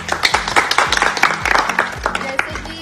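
Audience clapping on the set of the TV show Bhabhi Ji Ghar Pe Hai, a brisk run of overlapping claps close by, with faint low tones beneath.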